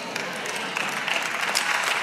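A church congregation claps and applauds during a sermon, a dense, steady wash of hand claps filling the space with no speech over it.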